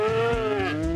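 A single drawn-out cow moo from a video game farm, close and clear, with a steady tone lasting about a second and no voices.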